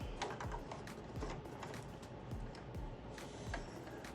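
A new sewing machine stitching fabric with dark thread, running in a fast, steady stream of close mechanical clicks and taps.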